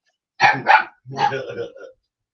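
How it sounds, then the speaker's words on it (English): A noisy dog barks outdoors, two quick close barks followed by a longer, rougher bark that trails off, loud and alone. "there's a noisy dog there, Charlie."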